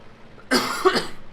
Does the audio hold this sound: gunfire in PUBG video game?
no